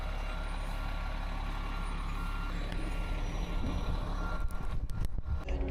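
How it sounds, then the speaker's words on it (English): Skid steer engine running loud and steady nearby while moving a 40-foot steel water tower, with a continuous reversing beep and heavy rumbling, then clanking metal knocks toward the end. "I am now going to pick up this end with the skid steer and try to get it like more on the dolly"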